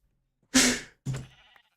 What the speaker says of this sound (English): I really am seeing every sheep now